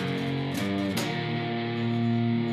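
Electric guitar playing a slow blues shuffle phrase: a couple of sharp strummed attacks followed by a sustained ringing chord, moderately loud and alone.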